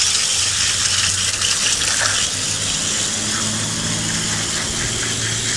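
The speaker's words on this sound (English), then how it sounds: "Now Willie is rinsing off the supply side of the coil so that we can have both sides as sparkling clean as possible." Water from a hose rinses the supply side of an HVAC evaporator coil, a steady loud broadband gush and spray that runs unbroken and close throughout, with a low mechanical hum beneath and no talking.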